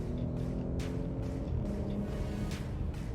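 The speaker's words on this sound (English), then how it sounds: "Listen to the exhaust." A Porsche Macan S SUV exhaust drones in a steady, low engine rumble throughout, with a few faint higher whooshes rising and fading over it.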